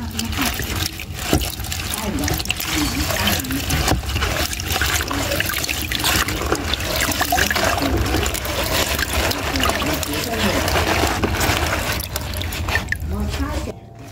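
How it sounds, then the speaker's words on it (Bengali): Mustard greens being washed by hand in a basin of water: a steady, close trickling and sloshing that runs without a break for the whole stretch. "প্রথমেই শাকগুলোকে ভালোভাবে জলের মধ্যে দিয়ে ধুয়ে নিচ্ছি"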